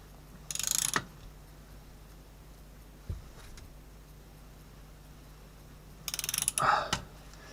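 A ratchet tightens a part on a Peugeot BE4R gearbox during a bearing replacement. Two short bursts of close, rapid clicking are separated by a quiet stretch with a single knock, and no one talks.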